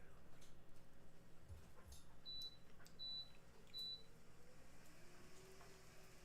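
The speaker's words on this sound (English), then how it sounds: "Toaster oven just beeped." A toaster oven timer gives three short, evenly spaced electronic beeps, faint against a quiet kitchen hum, with a few soft clicks and knocks around them.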